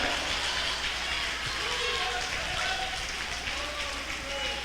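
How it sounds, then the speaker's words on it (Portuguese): A church congregation applauds continuously in a dense, rain-like patter of many hands clapping, steady and sustained, while a voice speaks faintly beneath it. "Quem crê, aplaude mais forte ao Deus eterno."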